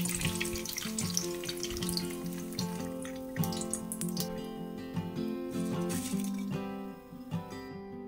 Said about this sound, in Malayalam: ഇതുപോലെ നല്ല ഗോൾഡൻ ബ്രൗൺ ആവുന്നതുവരെ ഫ്രൈ ചെയ്തെടുക്കുക.